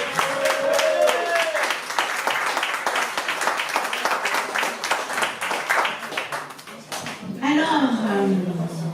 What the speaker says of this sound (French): Et je vous demande d'applaudir Lucie s'il vous plaît.